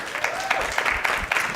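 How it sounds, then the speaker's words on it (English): A crowd at an outdoor beach pitch competition claps and cheers in a short burst, claps uneven and mixed with a few voices, moderately loud throughout. "Give her another round of applause."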